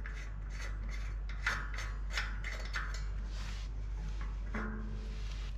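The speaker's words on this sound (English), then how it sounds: "Now I'm removing back the disc brake." Metallic clicks, scrapes and ratcheting as a disc brake rotor is taken off a Shimano Deore 12-speed Micro Spline hub, close-up and irregular over a low steady hum, no talking.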